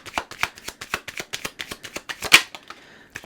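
Tarot cards are riffled and shuffled in a rapid run of crisp flicks, with one sharper snap near the end, close up and with no talking.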